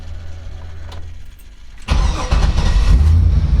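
A 1940 Ford Deluxe convertible resto-rod with an LS7 V8 cranks briefly and then fires into a loud, deep idle that carries on steadily close by.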